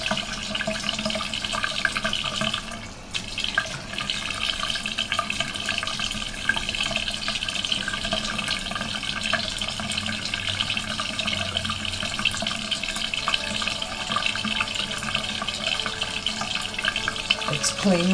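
Steady tap water runs into a sink throughout while a makeup brush is rinsed with Swirl and Sparkle brush cleanser, a continuous close splashing flow with brief handling sounds.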